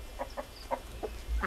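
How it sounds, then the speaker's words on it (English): A small rooster clucks in short, separate bursts about every few tenths of a second, close by, with a low rumble of background noise. "We have a little rooster in there."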